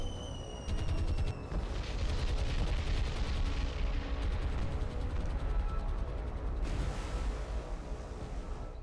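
Aircraft strafing in War on the Sea during the defense of Malta, with sustained rattling bursts of gunfire over a deep rumbling bed, several rapid volleys stacking loud and close.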